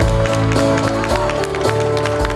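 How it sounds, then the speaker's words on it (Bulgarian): Audience applause at a GERB political rally in Bulgaria, loud continuous clapping mixed with crowd noise and music-like tones in the background. "Аплодисменти!"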